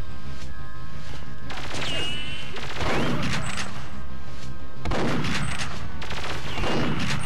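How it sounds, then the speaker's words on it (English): Shotgun blasts from the video game Perfect Dark, in the dataDyne Central: Extraction mission: loud repeated booming shots with sharp cracks and rolling tails, several spaced a couple of seconds apart over a dense game background. "I might switch to shotgun actually."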